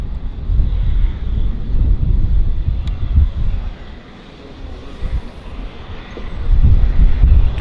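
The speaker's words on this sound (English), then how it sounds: "Q400 taxiing out." Bombardier Q400 turboprop taxiing at Vancouver Airport, a steady low engine drone and rumble with wind noise on the microphone, dipping briefly in the middle before swelling louder again.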